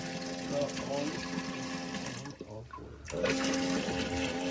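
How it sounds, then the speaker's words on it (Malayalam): An electric motor pump recirculates water through the tank of a rebuilt fishing boat, a steady humming and sloshing drone that dips briefly in the middle, with people talking over it. "ഈ ഒരു മോട്ടർ വെച്ചിരിക്കുന്നതുകൊണ്ട് വെള്ളം റീസർക്കുലേറ്റ് ചെയ്തുകൊണ്ടിരിക്കുവാണ്"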